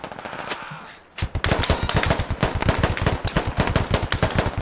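After a short quiet lead-in, a squad in the military shooter Squad opens fire together, producing dense, rapid automatic gunfire of overlapping close bursts that continues loud and sustained to the end.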